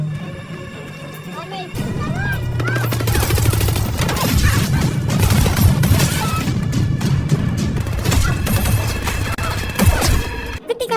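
A loud, chaotic burst of gunfire and crashing impacts erupts after a quieter moment, sustained and dense, with voices mixed in beneath the shooting.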